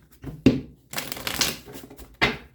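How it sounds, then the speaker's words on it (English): Tarot cards being shuffled up close: a quick riffle, a longer rustling shuffle, then one more short snap of cards, with no talking. "One more shuffle, Pisces."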